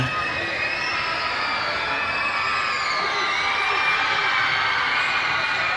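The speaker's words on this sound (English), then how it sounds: "Facing a lot of crowd noise here too." Steady roar of a high school basketball crowd in Wyoming, Riverton versus Evanston, with shrill cheering and children shouting at a constant moderate level throughout.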